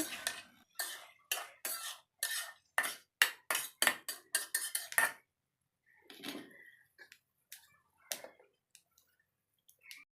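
Egg, potato and Malabar spinach stems being stirred in a pan, heard as a quick run of sharp metallic scrapes and clinks from a spatula, then sparser, softer taps with gaps of silence.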